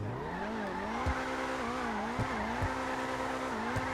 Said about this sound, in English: let's see if it can do some victory donuts